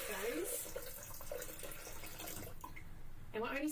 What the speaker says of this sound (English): now we're putting our steaming liquid in. So it wants 1 litre of water.